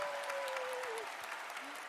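An audience applauds at a corporate event for Atomy in Korea, steady broadband clapping throughout with a faint tonal sweep over it.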